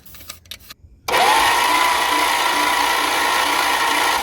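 A steady, loud mechanical whir kicks in after a second of scattered clicks and holds constant, the engine of a 1963 limousine unused for 21 years being cranked continuously.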